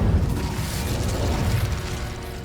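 An Incendio fire spell cast in Hogwarts Legacy, a loud rumbling whoosh of flame with a strong low-end burst at the start that rolls on and slowly fades.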